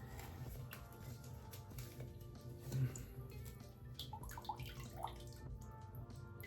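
Water drains from a freshly watered houseplant pot, a faint steady trickle with scattered drips and splashes, quiet and close, with no talk.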